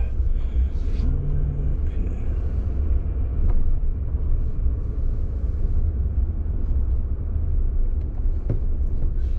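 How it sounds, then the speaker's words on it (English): A big truck rumbles by close at hand in Kettle Falls, a low engine drone rising and fading with little else heard. "Watch out for that big truck."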